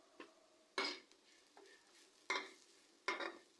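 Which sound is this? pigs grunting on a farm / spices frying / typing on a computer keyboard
spices frying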